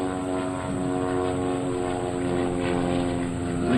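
Propeller aircraft of the Split Image team making a head-on pass at the 2003 NAS/JRB Willow Grove air show. A loud, steady engine drone with strong tones holds for the whole stretch, with no talk.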